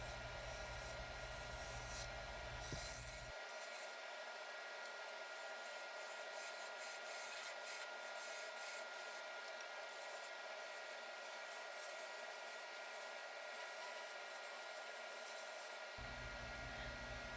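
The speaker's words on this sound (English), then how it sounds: "using the bowl gouge to start the shaping process of shaping the vase" Bowl gouge shaping a purpleheart vase on a wood lathe spinning around 1100 RPM, a steady close hissing, rubbing cut over the lathe's hum, with a low rumble that drops out midway and returns at the end.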